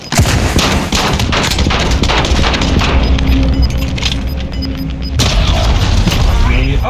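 A flashbang grenade goes off in Call of Duty Modern Warfare, heard as a loud, dense blast amid continuous rapid gunfire and mechanical clatter, with a sharp renewed burst near the five-second mark.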